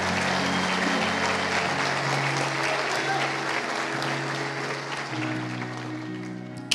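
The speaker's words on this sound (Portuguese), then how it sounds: "Dê uma salva de palmas àquele que está vivo," Sustained applause from a church congregation, dense and steady throughout, with voices mixed into the clapping and a background tone underneath.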